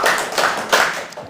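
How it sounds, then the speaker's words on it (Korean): Three firm hand claps from a church gathering, evenly spaced and close, each a sharp burst with a brief decay, with no talk over them. "박수도 한번 3번 쳐보겠습니다"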